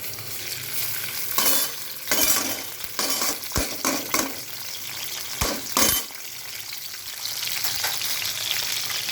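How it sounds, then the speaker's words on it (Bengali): Dried fish (shutki) fries in hot oil in a wok with a constant loud sizzle, punctuated by clattering spatula strokes and metallic knocks against the pan. "এটা আমি এখন লাল করে ভেজে নেব"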